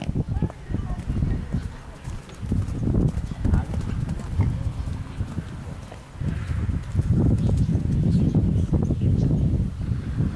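A horse gallops on a show-jumping course, with quick rhythmic hoofbeats thudding close and loud for the whole stretch while an announcer and spectators talk over it.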